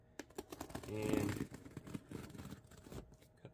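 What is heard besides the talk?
scissors cutting packing tape on box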